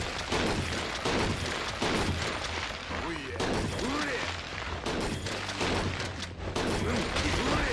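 Gunshots in the video game Yakuza 0, a dense, loud run of rapid shots and bursts lasting several seconds, with a voice talking over the firing.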